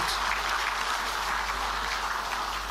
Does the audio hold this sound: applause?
yes